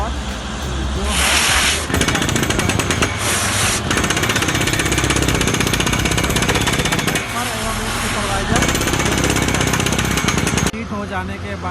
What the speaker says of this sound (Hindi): ड्रिलिंग के लिए हमेशा हम लोग वेट ड्रिलिंग का ही इस्तेमाल करते हैं ताकि डस्ट से कंट्रोल हो